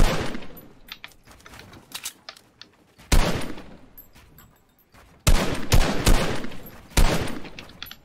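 Rapid bursts of gunfire from a first-person shooter video game, loud close bangs in several sharp volleys with brief gaps, alongside faint keyboard clicking.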